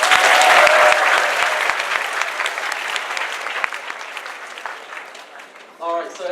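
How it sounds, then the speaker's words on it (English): Audience applause at an awards ceremony, loud and dense at first, then gradually thinning and fading over several seconds before a voice starts at the very end. "Round of applause for my sister."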